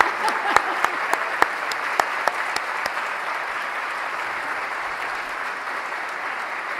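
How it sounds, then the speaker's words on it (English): Sustained applause from an audience at a college leadership award forum, a dense steady wash of clapping with a few distinct near claps standing out early, continuing without talk. "How about another round of applause?"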